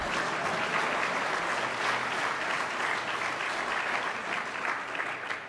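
An audience applauds at a state budget promotion event with New York Governor Kathy Hochul, a thick, continuous wash of many hands clapping at even loudness throughout, with no speech on top.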